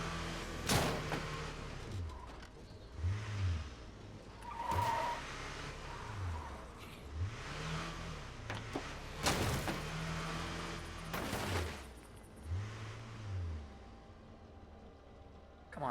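Truck driving in State of Decay 2, with engine revs rising and falling in repeated swells, several bumps and clunks along the way, heard close and fairly loud with no talk.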